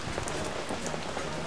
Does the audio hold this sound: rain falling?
yes